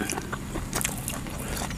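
Someone chewing crunchy, tender steamed herbal beef, giving close, faint crunches and wet mouth clicks in an irregular rhythm, with no talk.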